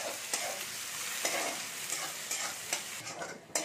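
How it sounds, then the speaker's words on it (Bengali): Chopped onions fry in hot oil in a home kitchen, giving a steady, hissing sizzle with a few soft stirring scrapes, close and moderately loud, with no voices. "পেঁয়াজগুলো একটু আমি ভেজে নেবো, একটু লাল লাল করে ভেজে নিতে হবে এটাকে।"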